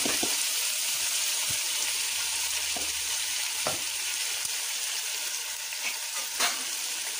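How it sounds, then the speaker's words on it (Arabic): Peppers fry in hot oil with a steady, close sizzle and hiss. Faint clicks of a utensil come now and then, and no one talks. "الفلفله بحال غير غادا تقلى قبل لا تهرى مزيان"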